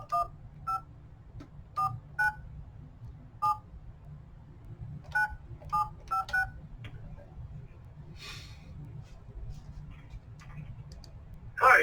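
A telephone number is dialed: a dozen or so short, clear keypad tones come in uneven clusters over a faint hiss, followed by a brief rustle and a louder sound at the end.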